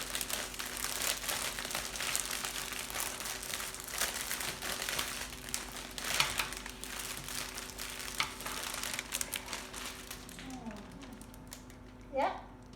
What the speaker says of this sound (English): So then you get your cellophane in the end like that